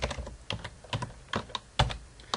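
Typing on a computer keyboard, a handful of separate key clicks and brief bursts spaced irregularly, close and fairly quiet, with no voices.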